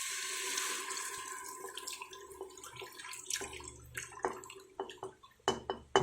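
Water pours and splashes into a WMF pressure cooker holding a mixture of spices, tomato paste and cream, with a soft running trickle and irregular drips and clinks close by.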